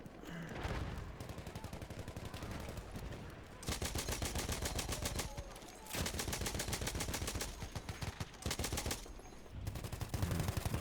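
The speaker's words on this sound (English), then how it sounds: "Receiving some enemy fire there." Dense enemy gunfire in the Battlefield 1 Tsaritsyn map rattles in long rapid automatic bursts, broken by short pauses, loud and close throughout.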